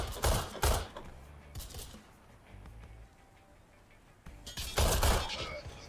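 Smith & Wesson R8 revolver fire in the video game Warface on PS4: several loud, sharp shots in separate bursts, two close together at the start, one a second later, then a denser cluster near the end, over quiet game ambience.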